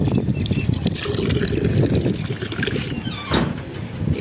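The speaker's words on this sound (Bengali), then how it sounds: "একটু জায়গায় পানি দিতেছি" Cold water is poured into a small spot inside a pigeon loft so the birds can bathe. It makes a steady close trickle and splash that runs continuously.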